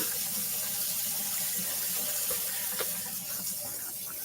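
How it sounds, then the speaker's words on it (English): Tap water runs steadily into a kitchen sink while butter is washed off hands, a soft even hiss with faint splashes throughout. "So let me wash the butter off my hands."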